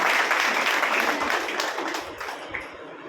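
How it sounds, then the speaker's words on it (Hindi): An audience claps together in a dense burst of applause that is loud at first and fades gradually over a few seconds. "हाथ उठा के एक बार जोरदार ताली हो जाना चाहिए"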